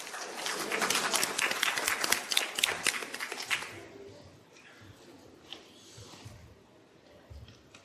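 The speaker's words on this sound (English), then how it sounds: "A big round of applause, ladies and gentlemen." An audience at a youth investor conference event in Pakistan applauds loudly for about four seconds, a dense burst of many hands clapping, then it fades to scattered claps and room noise.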